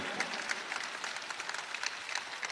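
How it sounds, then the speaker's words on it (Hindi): An audience at a Hindi-Urdu poetry recital claps steadily, a dense crackle of many hands in a large hall, continuous and moderately loud with scattered louder claps and no clear speech over it. "पूरा पिंडाल तालियाँ बजा दे"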